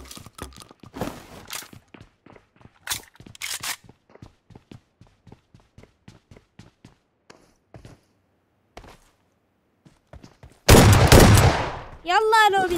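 Gunfire from PUBG Mobile erupts in a loud, dense burst near the end, after a long stretch of quiet with sparse footsteps and players talking in Turkish.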